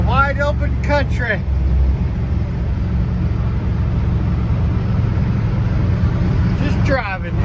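A 1965 Dodge car driving on open country roads, with a loud, steady engine and road rumble that runs throughout, and brief talking at the start and end.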